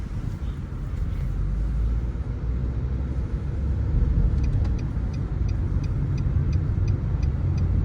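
Car being driven slowly while parking, a steady low engine rumble with a faint regular ticking, like an indicator, in the second half.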